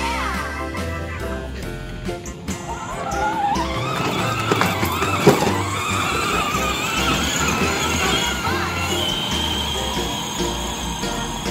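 A small boy's toy car skids and drifts outdoors, giving a continuous scraping, squealing rush with sliding pitch sweeps and a low rumble underneath, fairly close and loud throughout.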